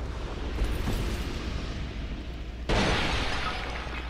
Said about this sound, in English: Probably explosive of some kind.